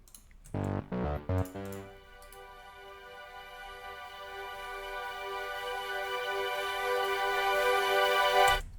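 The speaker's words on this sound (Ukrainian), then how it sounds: "Тут у нас по факту що йде, це ось такий просто пад" After a few short plucked notes, a sustained synthesizer pad swells steadily louder for several seconds, rich and buzzy, then cuts off.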